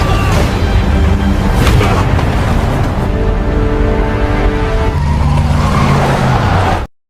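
A prison van is driven off fast in an action film scene, engine roaring and tires skidding loudly amid dense crashing and dramatic score, continuous and close before cutting off abruptly.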